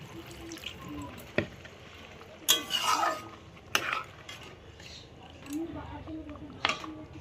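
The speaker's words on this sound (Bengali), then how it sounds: "আর একটু জল দিই।" Water poured into a cooking pot for a bottle gourd and fish curry, with soft splashing, a few metallic clinks of the pot and utensils, and quiet kitchen background.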